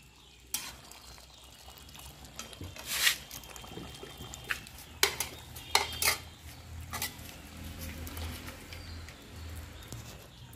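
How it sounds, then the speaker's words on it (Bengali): A pot of cooked Chinese duck meat is handled on the stove, with metal clanks and scrapes of utensil against pot standing out as sharp, scattered knocks over a low steady background hiss. "মাংসটা আমার রান্না হয়ে গেছে, আমি এখন নামিয়ে নিচ্ছি।"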